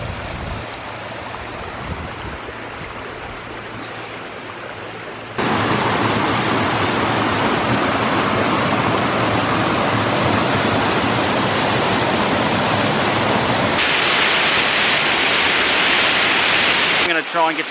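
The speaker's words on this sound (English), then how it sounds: "Can you hear a waterfall?" A waterfall roars as a steady broadband wash under an overcast sky, softer at first, then jumping louder and fuller as the falls draw nearer, with a brighter hiss near the end.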